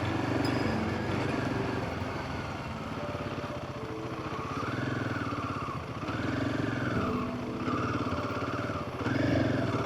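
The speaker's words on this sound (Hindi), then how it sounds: "यहीं पे बाइक मैं भी अपना लगा देता हूँ" Royal Enfield Himalayan 450 motorcycle engine running steadily nearby on a forest road near Chakrata, with a continuous mid-pitched drone that rises and falls in a few revs.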